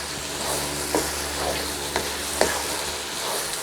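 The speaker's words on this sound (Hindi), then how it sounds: "इनको भून लेंगे अच्छी तरह।" Chicken pieces seasoned with salt and chicken powder fry in a pan for restaurant-style egg chicken fried rice, a steady close sizzle with a few sharp spoon scrapes and clicks, and no talking.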